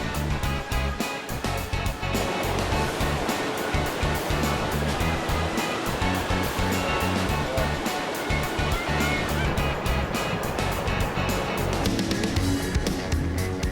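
Whitewater river rapids thump and churn continuously during a canoe race through tree-lined water, a loud, close rushing roar with no talk.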